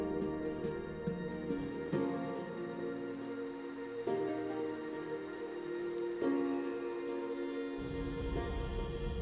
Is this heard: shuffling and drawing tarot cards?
no